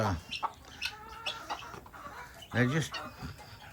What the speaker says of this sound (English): We took one out and put it out into the chicken run with the chickens and Bonnie.